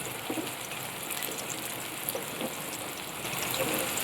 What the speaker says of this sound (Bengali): কিছুক্ষণ পরে আমি এতে দিয়ে দেব সামান্য পরিমাণ জল।